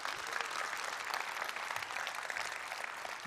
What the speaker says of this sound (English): Give me a little clap if you've enjoyed the conference so far today.